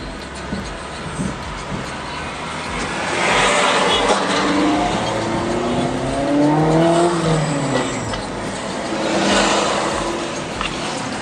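A Honda S2000 engine drones steadily nearby, rising and falling in pitch as it revs and shifts, with a whooshing road noise underneath.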